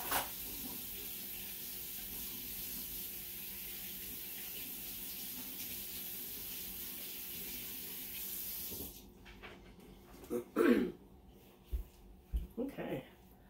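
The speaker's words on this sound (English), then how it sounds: "I'm just going to wash off my hands a bit." Tap water runs steadily while hands are washed under it for about nine seconds, then shuts off, leaving a few scattered clinks and handling noises close by.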